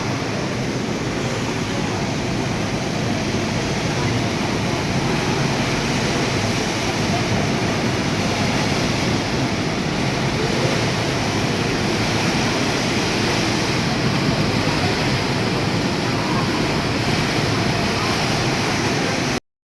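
Water flows steadily at a luxury hotel rooftop pool in Singapore, a loud, unbroken broadband rush, like a waterfall, lasting throughout with no pauses.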